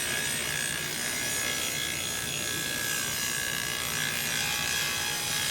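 Hand planing of Oregon timber beams, shaping a square-cut spar through eight sides into a round mast, gives a steady, continuous rasping scrape of blade on wood, fairly close and unbroken, with no voices.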